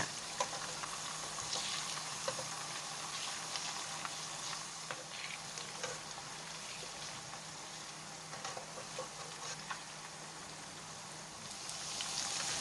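Oil sizzles and crackles steadily in a pan while tofu fries, a constant hiss dotted with small pops.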